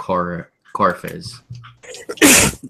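A single sharp sneeze bursts out near the end, close and loud, following a few moments of conversation.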